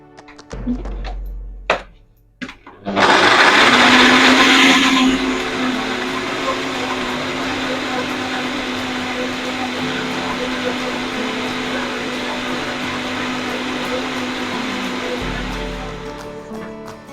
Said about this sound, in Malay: Okay, kita blend dia sampai dia hancur lah.